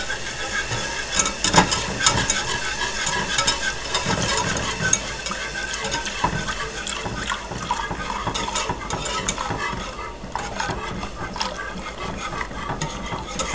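Oat milk being stirred into a pot of cauliflower sauce, a steady wet swishing and scraping that runs continuously and fairly loud, with a faint background hum underneath.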